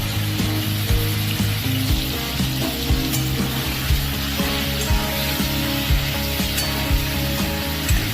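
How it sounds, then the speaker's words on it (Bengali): Pieces of broiler chicken fry in hot oil in a pan with a dense, continuous sizzle, punctuated by regular soft knocks and scrapes from stirring, close and fairly loud. "এই চিকেনটাকে ভালো করে ভাজছি।"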